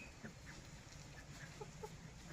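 Chickens in a backyard flock of hens and roosters cluck in soft, scattered bursts over a low steady background, fairly faint and close, with no talking.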